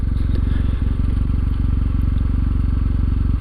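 A warm Kawasaki motorcycle engine idling high, a steady, loud, close low-pitched putter with a fast, even pulse throughout and no talking.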